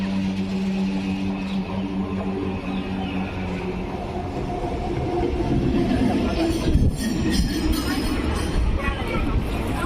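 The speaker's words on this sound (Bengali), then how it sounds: "মালগাড়ি আসছে।" A goods train rumbles past on the railway, a loud continuous roar of wagons and wheels that swells toward the end, with people talking faintly beneath it.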